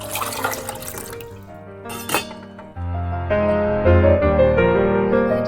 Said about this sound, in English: turn on the heater and put in the water